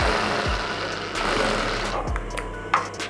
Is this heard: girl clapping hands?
no